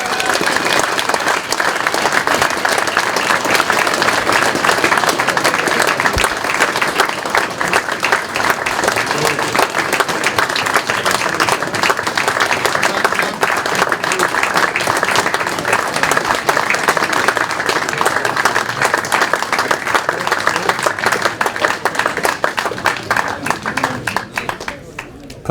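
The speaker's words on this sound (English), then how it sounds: "Put your hands together, make lots of noise for our 2018 Volvo Cars Poole" A large crowd applauds the Poole Pirates speedway team, dense and loud clapping that holds steady throughout and thins slightly near the end.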